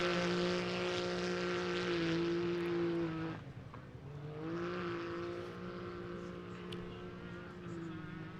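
Off-road race car in a 2019 Can-Am UTV King of the Hammers desert race launches off the start line, a loud engine whine climbing in pitch, cutting off abruptly, then resuming as a fainter fading drone.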